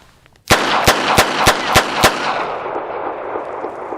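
A Charter Arms Pit Bull .380 ACP revolver fires six rapid, loud shots of Blazer ammunition about a third of a second apart, each a sharp crack, followed by a fading echo outdoors.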